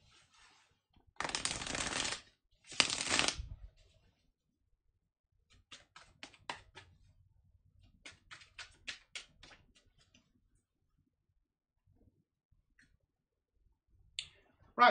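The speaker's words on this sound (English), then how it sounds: "So let me shuffle" Cards are riffled twice in quick, loud bursts, followed by scattered soft clicks and taps of cards being handled, then a final shuffle near the end.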